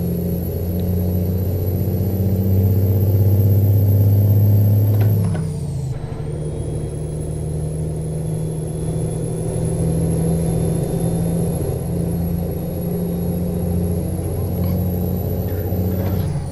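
A Freightliner Coronado truck engine in American Truck Simulator gives a steady, loud, low diesel rumble, with a deeper surge early on, a brief hiss around a shift, then a continuous drone alone for the whole stretch.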